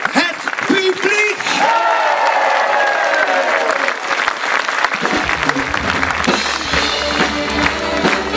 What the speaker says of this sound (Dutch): een heel hard applaus voor jullie, het publiek